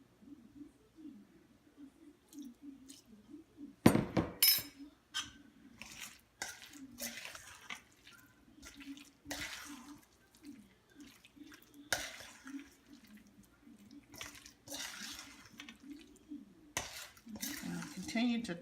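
Potato salad is tossed in a bowl, giving soft repeated scraping and clinking of a utensil against the dish with a few sharper knocks, faint and close, under occasional talk.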